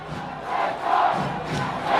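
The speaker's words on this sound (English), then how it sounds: "You can hear the crowd chanting for a red card" Stadium crowd at a Greenville FC versus Chattanooga FC soccer match chanting for a red card, a loud, swelling roar of many voices rising and falling in waves across the stands.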